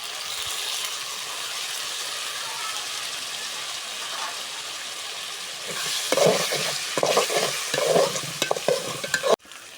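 Soy sauce and tomato sauce being stirred into chicken pasta in a frying pan, a steady sizzle with scraping strokes of the spoon that grow louder and more rhythmic toward the end, heard up close with no talking.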